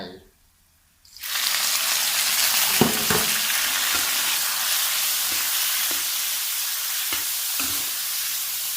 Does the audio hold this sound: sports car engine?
no